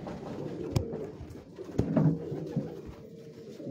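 Pale-coloured pigeons kept on a Lahore rooftop coo in low, rolling calls close by, with a few sharp knocks and rustles among the birds.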